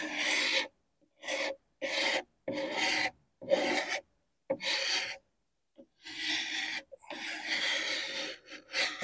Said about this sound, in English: I've got it angled for scraping.